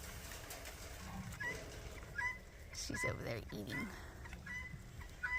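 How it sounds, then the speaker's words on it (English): A flock of guinea fowl on a small goat farm gives repeated harsh, cackling calls at moderate distance over a busy outdoor background. "And there is our new gaggle of guineas"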